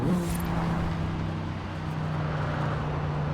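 The Cyberpunk 2077 Quadra car in the Forza Horizon 4 racing game cruises with a steady, droning engine hum at constant pitch, loud and close, with no speech.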